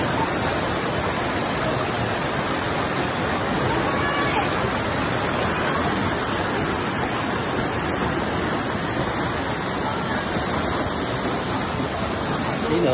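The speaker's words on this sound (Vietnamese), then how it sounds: "Trong đây suối rất đẹp, thác rất đẹp." A waterfall and forest stream in Lao Cai roar steadily as a dense, unbroken rush of water, with faint crowd murmur mixed into the constant wash throughout.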